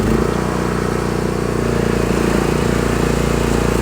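The engine of a small zero-turn lawn mower runs at a steady, loud, close drone with a rapid even pulse, with no pauses and no voices.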